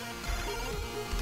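A phone notification chime rings briefly and faintly against a steady background of music.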